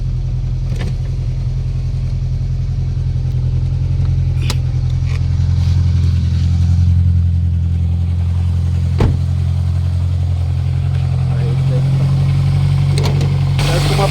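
A Toyota Altis engine running rough and loud, with the oil indicator light still on, a steady heavy drone with a few sharp ticks and knocks over the throbbing idle, close and continuous.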